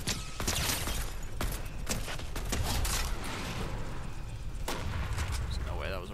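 Gunfire crackles in Fortnite OG no-build mode at Tilted Towers, with loud, repeated shots and bursts, some clustered rapidly and others spaced apart, while a player talks over the fighting.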